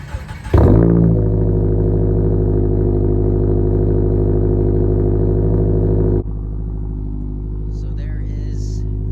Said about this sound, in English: So that is pretty much what a cold start is.